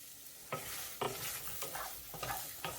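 Flour and chopped vegetables sweat in a pan for a chicken pot pie filling, with a low frying hiss under a handful of sharp spoon scrapes against the pan, roughly every half second, close by.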